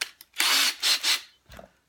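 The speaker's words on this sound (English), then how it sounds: "But here I have my drill." A handheld power drill spins up in bursts, with a few loud whirring runs close by and a brief knock at the end, no talk over it.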